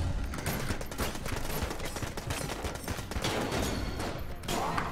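Rapid bursts of gunfire in the video game Enter The Gungeon, dense overlapping shots firing almost continuously at a loud, even level.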